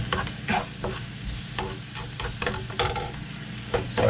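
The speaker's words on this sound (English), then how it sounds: "We're just gonna stir this and leave it to cook for maybe 2-3 minutes." Vegetables for an omelette frying in oil in a pan, stirred with a spatula that scrapes and taps in irregular strokes over a constant close-up sizzle, with no one speaking.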